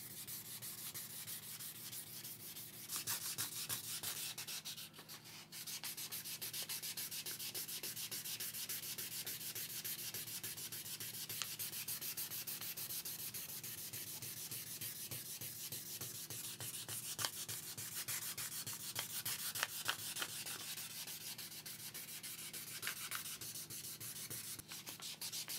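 Sandpaper rubs by hand over a rusty axe head in fast, steady back-and-forth strokes, continuous and close for the whole stretch with brief pauses.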